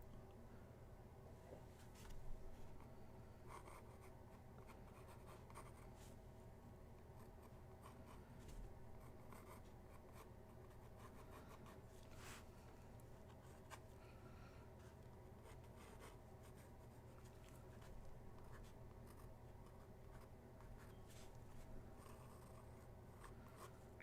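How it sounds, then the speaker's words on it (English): A graphite pencil scratching and rubbing steadily across paper during an ink illustration session, a soft continuous rasp with occasional light strokes standing out, close and fairly quiet throughout. "Good old scratchy noises of this pencil."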